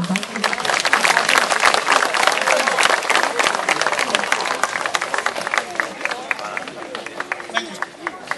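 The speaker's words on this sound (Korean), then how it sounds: "환연 그림자극 예술단의 장빙 선생님께 다시 한번 큰 박수 부탁드립니다." An audience applauds a Chinese shadow puppet troupe's performer in Jeonju Hanok Village, a dense sustained wave of clapping that thins toward the end, with crowd chatter and a voice mixed in.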